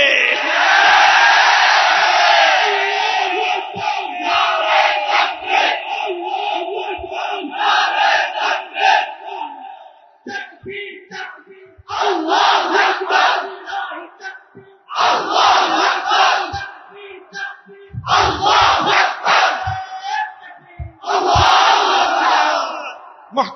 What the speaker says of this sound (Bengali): পুরা মজলিসের মধ্যে, পুরা মাহফিলের মধ্যে আমার আল্লাহর বড়ত্বের স্লোগান উঠবে